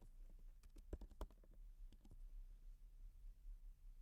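Quiet, close clatter of keys on a computer keyboard as a short word is typed, a quick burst of taps followed by a few scattered presses and low room hum.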